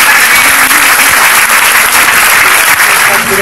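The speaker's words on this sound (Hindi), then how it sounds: "शानदार तालियां" Dense, loud applause from a classroom audience at a Hindi maths lesson fills the whole stretch, steady and close, with no pauses.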